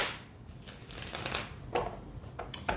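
Tarot cards are shuffled in soft riffling bursts with brief gaps, close and moderately loud, with no talk.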